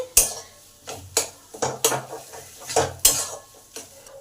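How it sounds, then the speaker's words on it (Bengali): Potatoes stirred and fried with spices, tomato and salt in a pan, a utensil scraping and clattering against the metal in about nine separate strokes, with faint frying beneath; no one speaks. "আলুটাকে ভালো করে এর সঙ্গে ফ্রাই করে নেবো নিয়ে পাঁচ মিনিট নেড়ে নেবো"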